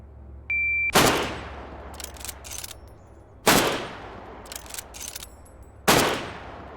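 Three loud, sharp rifle reports from a bolt-action rifle in the video game Dead Matter, fired at a shooting range and spaced a few seconds apart. Each crack is followed by a brief decay and faint mechanical clicks.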